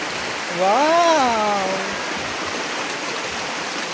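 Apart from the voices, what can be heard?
water flowing at a spring where water is fetched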